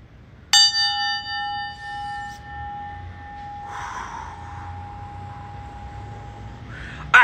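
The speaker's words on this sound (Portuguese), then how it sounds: "eu vou colocar agora o nosso sininho pra te acordar" A small bell rung once as a wake-up signal in a tiny kitchenette, a bright ding that rings on with a long, slowly fading tone, with faint breathy sounds in the background.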